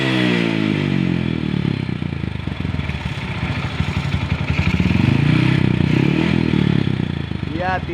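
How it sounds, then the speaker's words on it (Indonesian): A motorcycle engine revved to high speed during a charging-system electrical test, a loud, close, rattling roar that holds steady for several seconds with rising intensity, no talking over it. "Nah, kita akan coba gas tinggi ya."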